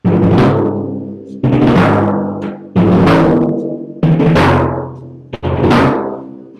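Five resonant timpani strokes moving between drums, each booming and ringing out before the next, with the pitch shifting between hits, loud and close.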